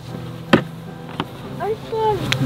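A small, queenless swarm of honeybees sits inside a nuc box in a park, giving a low steady hum broken by a few sharp knocks and thin chirping tones.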